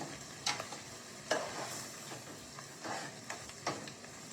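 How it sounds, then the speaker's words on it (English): Onions sautéing in a pot for shrimp jambalaya: a soft, steady sizzle with a few spoon scrapes and stirs at irregular intervals, fairly quiet and with no talking. "So we're bringing the onions down to almost a translucent."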